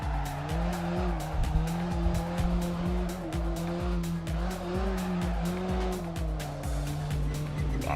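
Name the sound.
car drifting with tyre squeal in Assetto Corsa video game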